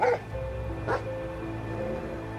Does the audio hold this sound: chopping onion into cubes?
no